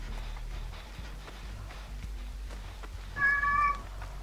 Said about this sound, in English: My cat's going crazy.